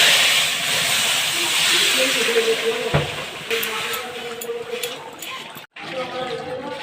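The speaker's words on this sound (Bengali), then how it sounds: "কড়াই গরম হয়ে গেছে তেল দিয়ে দিচ্ছি শুকনো লঙ্কা ফাটিয়ে নিয়েছি আর কাঁচা জিরে দিয়েছি শাক ঢেলে দিচ্ছি" Pumpkin greens hitting hot oil in a wok with dried red chillies and cumin, a strong continuous hiss that runs under a person talking.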